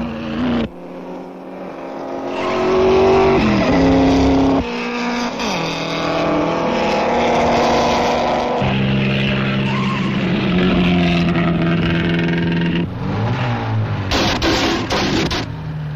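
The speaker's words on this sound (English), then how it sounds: "Then the Sunbeam starts to misfire mysteriously, and Bordino takes the lead" Nineteen-twenties racing cars, a Sunbeam and an Alfa, roar around a race track in a long event, with loud engines rising and falling in pitch as the cars pass, shift and brake.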